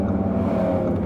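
Audi RS3 exhaust heard up close during a downshift: a steady, low engine drone that holds for about a second, with no crackles or pops and no voices.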